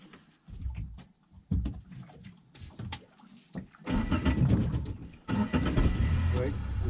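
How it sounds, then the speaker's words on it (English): Outboard motor on a small fishing boat off Cape Verde starting up, a rough mid-pitched engine rumble that kicks in partway through and runs steadily after brief starts, with people talking over it. "Start the motor,"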